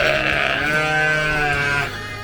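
Dexter cattle cows calling with loud, drawn-out moos, several overlapping harmonic calls close by, sustained for about two seconds before fading slightly.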